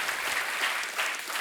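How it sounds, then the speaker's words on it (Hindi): A studio audience gives a short burst of steady, fairly loud clapping on a comedy show, with no talk over it. "आपने ताली क्यों बजाई?"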